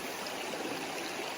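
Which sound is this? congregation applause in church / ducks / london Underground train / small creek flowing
small creek flowing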